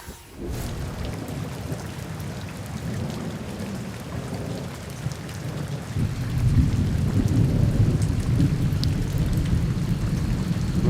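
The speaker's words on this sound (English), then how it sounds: "We've had thunder and lightning for the last few hours," A wet-season thunderstorm brings loud, continuous rain and deep rumbling thunder that swells stronger in the second half, with no speech.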